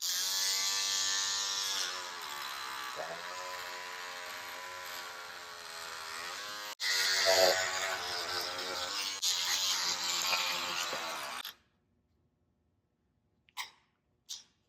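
Battery-powered electric scissors cut through denim jeans with a continuous close, whining buzz that shifts in pitch as the blade chews the fabric, then cuts out abruptly, followed by silence and a couple of faint clicks.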